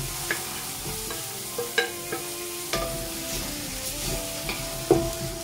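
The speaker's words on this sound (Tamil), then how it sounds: "இப்போ வந்து நம்ம தக்காளி ஆட் பண்ணலாம்." Tomatoes and onions sautéing together in a pan for tomato rice, a steady soft sizzle broken by several sharp scraping stirs of a spoon, close and moderately quiet with no voices.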